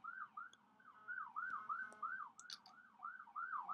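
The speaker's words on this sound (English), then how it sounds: "an ambulance going off on the road." An ambulance siren on the road wails, sweeping up and down in a steady repeating cycle, moderately loud and continuous, with faint engine rumble underneath.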